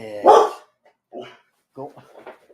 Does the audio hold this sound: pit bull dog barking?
yes